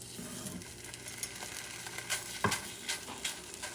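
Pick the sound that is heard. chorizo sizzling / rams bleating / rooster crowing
chorizo sizzling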